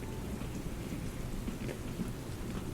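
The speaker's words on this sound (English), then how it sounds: "What with the rain and all" Steady rain and low thunder rumble outside a train window, a soft, continuous wash of sound heard faintly from inside the carriage.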